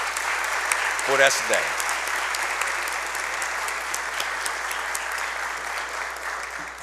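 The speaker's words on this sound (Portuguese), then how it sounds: "eu gostaria de puxar uma salva de palmas para a Assembleia Legislativa de Alagoas" Audience at a formal solemn session of the Alagoas Legislative Assembly applauds steadily, dense clapping sustained throughout, with a short spoken phrase from a man over the start.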